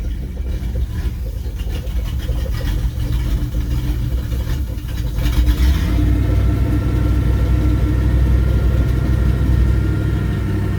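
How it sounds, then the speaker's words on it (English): A 1988 Bayliner 25 ft boat engine rumbles steadily after starting, settling into a low continuous idle that grows slightly louder partway through. "Engine fires right up."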